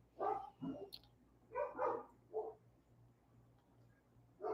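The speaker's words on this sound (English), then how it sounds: "I have to get Zachary to get these dogs in" Several dogs bark indoors in short bursts of two to three yips and barks, fairly close and loud, with gaps of quiet room tone between the outbursts.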